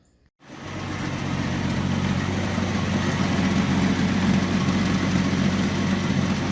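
A Ford Mustang engine with a freshly rebuilt carburetor catches and settles into a steady, loud idle with a deep rumbling drone that holds even and unbroken after a brief silent start.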